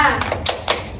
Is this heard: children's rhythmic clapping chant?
yes